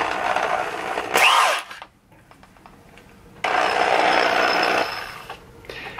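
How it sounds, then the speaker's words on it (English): A power drill spinning a carburetor pilot jet from a Kawasaki KZ400 whirs in two bursts, a short one then a longer steady run, with a quiet pause between, close and loud. "I'm chucking this up into the drill bit."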